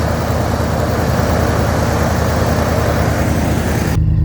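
A 2007 Dodge Dakota pickup engine running, heard up close as a loud, steady, low rumble without a break, cutting off abruptly just before the end.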